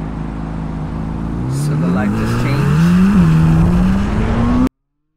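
A car engine revs and accelerates close by, its rising, wavering tone climbing steadily over about four and a half seconds in traffic near a left-turn lane. A voice speaks over it before it cuts off abruptly.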